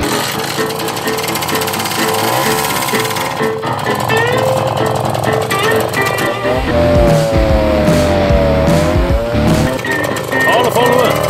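A Simson moped with Krause tuning runs at full throttle during a drag-style start, a loud, rasping two-stroke engine buzz that rises in pitch, with people shouting over it.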